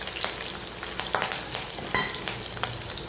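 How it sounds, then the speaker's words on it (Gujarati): Raisins, green chillies and curry leaves frying in oil, a steady close sizzle crackling with quick pops and short spits throughout. "હવે આપણે એમાં દ્રાક્ષ, લીલા મરચાં અને લીમડો તળી લઈશું."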